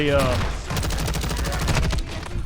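An Icarus 556 light machine gun fires in a video game: a sustained, rapid automatic burst of loud, evenly spaced shots rolls through most of the moment, with someone talking over it.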